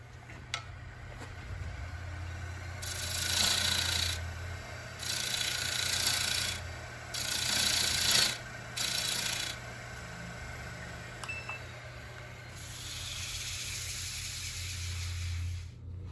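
A bowl-turning tool cuts a wooden bowl spinning on a lathe, producing quiet, hissing scrapes that come in several separate passes of a second or two, with short pauses between them.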